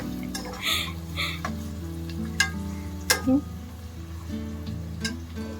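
Chopped onions and coriander sizzle and fry in a pan, with a steady crackle broken by a few scrapes and taps of stirring, under faint background hum.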